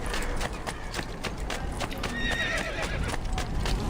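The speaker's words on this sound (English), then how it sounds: "So, Ezio, get off the horse, and we can head into town." Horse neighing and clip-clopping hooves in the video game Assassin's Creed II, a whinny rising briefly midway over steady hoofbeats and busy game ambience, with faint talk underneath.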